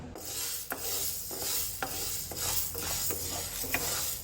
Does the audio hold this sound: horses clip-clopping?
no